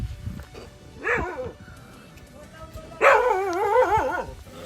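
Farm dogs barking at visitors near a gate, two bursts of howling, wavering barks a couple of seconds apart at moderate distance, over faint background voices and outdoor ambience.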